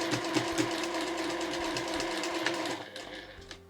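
Sewing machine stitching a seam through layered fabric 1 cm from the edge, a rapid even mechanical whir with fine needle ticks that runs steadily, then slows and stops near the end; no talking over it.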